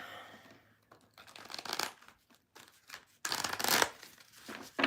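Cards being shuffled repeatedly, with rapid riffling bursts and soft bridging pauses between them, close up and crisp.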